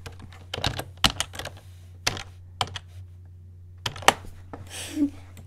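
Close, crisp keystrokes on a computer keyboard, a dozen or so separate clicks arriving in uneven bursts with short pauses between them, heard alone with no talking.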